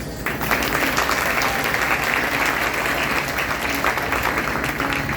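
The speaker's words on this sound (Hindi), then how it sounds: "तो पुनः एक बार जोरदार ताली" Loud, steady applause from an audience at a family satsang and Veda katha gathering, many hands clapping densely for about five seconds with no break.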